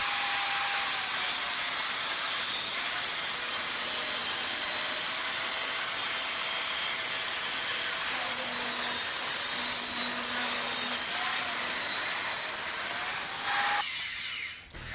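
Table saw ripping a crooked, bowed wooden board along the rip fence, a continuous high whining cut lasting about fourteen seconds with slight pitch shifts as the blade loads, ending as the saw winds down.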